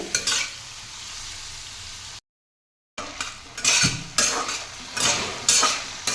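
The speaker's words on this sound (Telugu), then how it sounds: "దొండకాయ ముక్కలు ఫ్రై అవ్వడానికి కాస్త టైం పడుతుందండి" Ivy gourd (dondakaya) pieces frying in a pan, a steady sizzle broken by a brief silent gap, with scraping stirs and clinks of a utensil against the pan.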